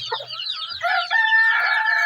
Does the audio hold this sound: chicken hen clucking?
yes